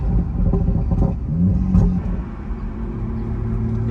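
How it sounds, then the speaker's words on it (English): Big-turbo BMW 440 with a B58 engine and an upgraded turbocharger, its engine rumbling steadily close by while a deeper turbo spool whine rises and settles over it. "turbo spool sound."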